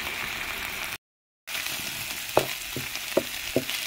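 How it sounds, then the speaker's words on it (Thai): Canned fish stir-frying with holy basil in a pan outdoors, a steady loud sizzle broken by a short gap, with several sharp scraping clacks of a utensil against the pan near the end. "ผัดข้างนอกค่ะมันกลิ่นมันแรง"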